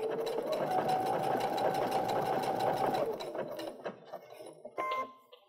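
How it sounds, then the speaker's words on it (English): A sewing machine stitches reverse appliqué lines on a snowflake pillow, a close steady whirring hum for about three seconds that slows and stops, followed by a few light handling clicks. "I've stitched a little portion here of two stitch lines"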